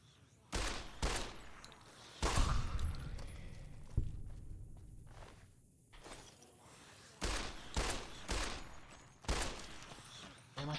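Fallout: New Vegas gunfire rings out as separate sharp shots spaced a second or so apart, with a short lull in the middle, each crack trailing off into quieter in-game ambience.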